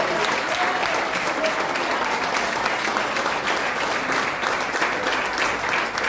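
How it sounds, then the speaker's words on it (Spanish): A church congregation at a Spanish-language Sunday service breaks into steady, dense applause, a loud continuous wash of many hands clapping together that holds evenly throughout. "Denle un aplauso a Jesucristo"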